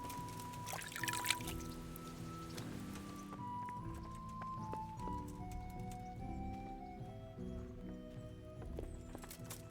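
Horse hooves clip-clop in the Kingdom Come: Deliverance video game, a steady walking rhythm over ambient game music.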